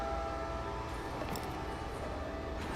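A train in the Batman Telltale series video game rumbles with a steady low drone and faint tonal hum, a continuous mechanical bed with brief higher hisses.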